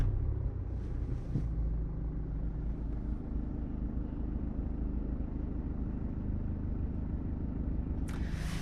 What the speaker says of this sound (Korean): 시동을 걸기 전에는 약 30dB 정도의 소음인데 시동을 한번 걸게 되면